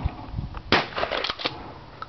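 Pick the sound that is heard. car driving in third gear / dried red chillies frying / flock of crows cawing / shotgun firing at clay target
shotgun firing at clay target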